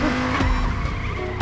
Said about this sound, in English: Sorry, I flipped the car.